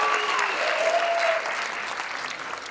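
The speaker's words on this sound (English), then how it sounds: "Round of applause. Come on." A comedy-show audience breaks into steady applause, a dense wash of clapping that stays even, then softens slightly toward the end, with a faint voice briefly under it.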